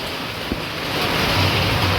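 Floodwater from heavy rain running along a road and pouring toward a shop, a steady broadband rushing wash with low rumble, continuous and fairly loud, building slightly toward the end, with no speech.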